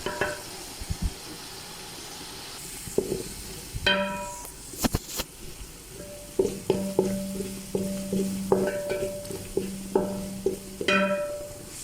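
Onions browned in a pan take a load of added ingredients, sizzling and frying steadily while a spoon clatters and stirs in repeated knocks and scrapes, close and moderately loud.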